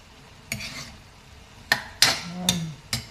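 Fish cooking with radish and beans in a pan is stirred, giving five separate sharp scraping knocks of a utensil against the pan, close and fairly loud, with a faint sizzle underneath and no talking.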